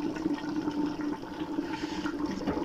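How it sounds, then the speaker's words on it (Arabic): Water poured steadily into a pot while cooking Moroccan couscous, a continuous close rushing stream with no talk. "هنا بسم الله غادي نعطي الماء طيب باش نسرع العمليه"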